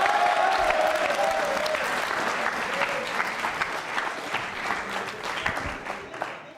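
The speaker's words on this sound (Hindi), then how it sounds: "जयप्रकाश के लिए तालियां जोरों से बजाइए" Applause from a school quiz-show audience for a contestant named Jayprakash, a steady moderate clatter of many hands clapping, slowly easing off toward the end.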